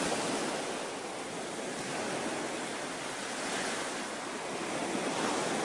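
Ocean surf washing continuously, a dense broadband roar of breaking waves with gentle swells in loudness, no voices.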